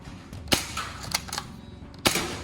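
An HK416D gel blaster fires in brief sharp bursts, two strong cracks about a second and a half apart with a softer mechanical rattle of the gearbox between them, close and loud with no voice.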